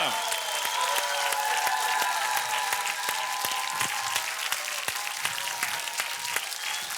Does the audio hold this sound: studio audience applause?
yes